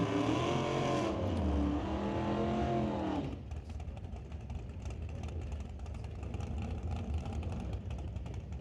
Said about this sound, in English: Big red Dodge with the wheels up, the classic 34 Ford off and running.